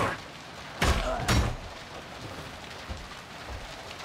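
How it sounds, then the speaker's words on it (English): Rain falls as a steady, soft hiss in the video game Warhammer 40k: Darktide, broken by two short, loud crackling bursts near the start, with no talk over it. "I love the way the rain sounds."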